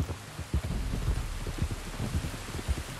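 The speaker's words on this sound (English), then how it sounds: "You were right about the damn rain." Steady rain in Red Dead Redemption 2 pours down with scattered heavier drops and low rumbling thuds, a continuous wash of noise.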